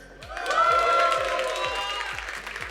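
Brief burst of applause and cheering from an esports crowd at a Stara Zagora tournament, swelling quickly and then tapering off, with a low rhythmic thump underneath.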